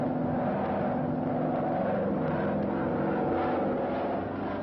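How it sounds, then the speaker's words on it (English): A Lockheed P-38 in its F-5B reconnaissance version flies past with a steady, loud, droning engine roar that holds evenly throughout, with no voices. "F-5B reconnaissance plane, the P-38 is a sky spy that slips in on the enemy for close-range aerial photos."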